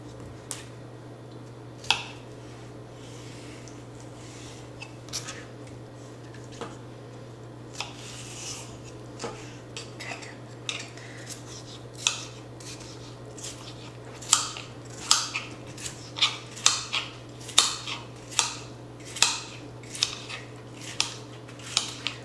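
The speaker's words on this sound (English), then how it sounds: "So we're just gonna chop this into like bite sizes." A kitchen knife chops salad ingredients into bite-size pieces on a board for a pasta chopped salad, sparse taps at first and then quickening into a steady run of sharp, close cuts over a low constant hum.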